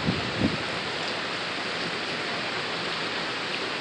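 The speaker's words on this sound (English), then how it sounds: "we've got a pretty heavy downpour here in Houston." A heavy rain downpour in Houston roars as a steady, dense hiss, constant and enveloping, with no voices.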